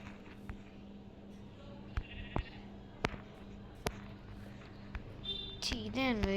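A lamb bleats several times, the wavering cries coming louder toward the end, over a background hum with sharp clicks and people talking nearby.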